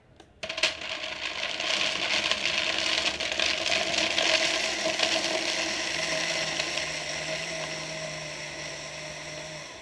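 A loud, steady whirring of a food processor or blender chopping, running continuously with a slight change in pitch partway through.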